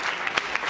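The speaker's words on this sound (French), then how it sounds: "Applaudissez pour le Congolais" Brief burst of audience applause at a stand-up comedy show for a comedian, dense clapping with a few sharper claps standing out.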